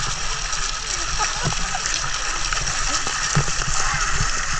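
A heavy stream of water pounds down steadily at a Walt Disney World resort, a loud, close, continuous rush with splashing and sputtering throughout.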